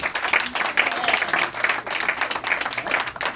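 A church congregation applauds during a worship service, sustained rhythmic clapping from many people, fairly close and steady with a faint voice underneath.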